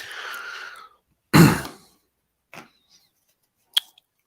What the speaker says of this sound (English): Clearing my throat, excuse me.